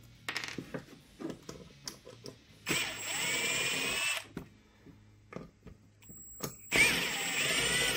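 Power drill or driver backing screws out of a wood router base plate, several short whirring bursts and two longer sustained runs, loud and close with no talk.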